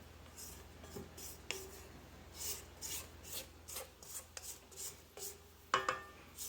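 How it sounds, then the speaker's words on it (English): A scraper rubs and scrapes salted chocolate cookie dough down the sides of a mixing bowl in a series of quiet, short strokes with occasional light knocks, faint and close. "we don't want to overmix it, but we do need to scrape it, so I had to run and get a scraper real quick"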